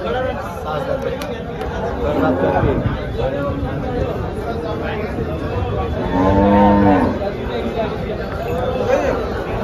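A large cow gives a loud, drawn-out moo at a busy cattle market in Dhule, rising out of constant crowd chatter and nearby people talking.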